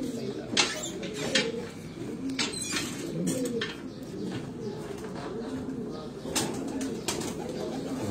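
Soft, low pigeon coos murmur throughout on a rooftop in Gujrat during a pigeon flying event, with occasional wing flutters and scattered sharp clicks and knocks nearby.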